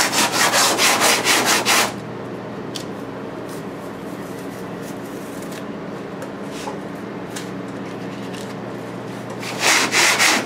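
Old sandpaper rubbing resin off a rear quarter panel in fast, loud back-and-forth strokes at the start and again at the end, with a quieter stretch of light scraping in between.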